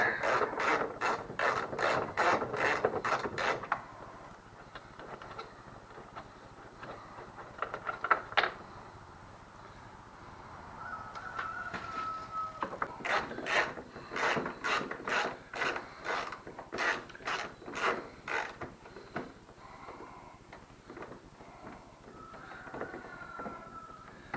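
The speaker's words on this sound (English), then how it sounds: "I like to use a good old-fashioned ratchet" A hand ratchet tightens bolts on an Xpert Accessories bumper during installation, giving quick bursts of rapid clicking that stop and start, with quieter rubbing and handling noises in the pauses.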